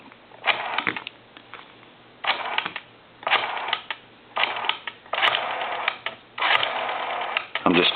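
A Western Electric rotary telephone dial is turned repeatedly, each wind followed by a burst of rapid mechanical clicking and whirring as it returns, in five or six close, distinct bursts.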